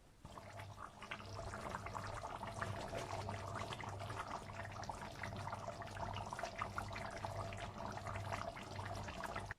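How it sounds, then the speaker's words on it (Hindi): Water is poured into a pan of spicy chicken liver curry as it cooks, a steady soft splashing and sizzling hiss that runs evenly for several seconds with no voices. "और फिर नाज़रीन आप इसमें थोड़ा सा पानी ऐड कर लें, हाफ कप या जितना भी आप चाहें।"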